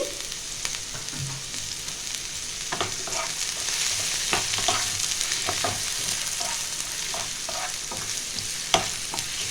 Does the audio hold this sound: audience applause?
no